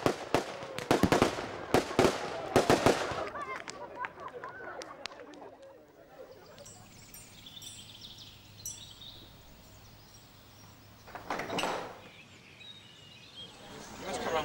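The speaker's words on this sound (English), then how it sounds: "Are there fireworks going on?" A rapid burst of fireworks cracks and bangs in the opening seconds, followed by quieter ambience and a further distant pop near the end, heard at a 2006 church festival at Edington Priory.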